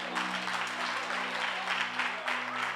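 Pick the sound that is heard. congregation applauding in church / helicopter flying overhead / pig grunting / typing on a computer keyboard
congregation applauding in church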